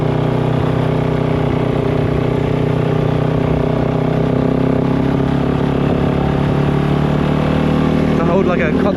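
A KOVE 450 Rally motorcycle circling a roundabout drones loudly and steadily at roughly constant throttle, a close engine rumble under a rider's voice.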